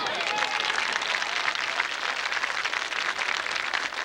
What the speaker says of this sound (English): Let's give these fine students another round of applause.